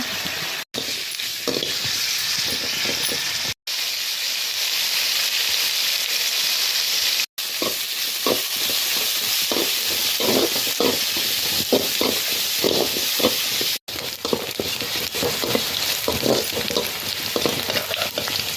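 Curry leaves fry in hot oil with onions in a pan, giving a loud, steady sizzle and hiss throughout, while repeated scraping stir strokes come through more clearly in the second half, with no voices.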